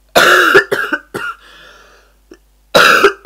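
A person with a cold coughs in a few harsh, close bursts. A quieter wheezy breath follows, then another strong cough.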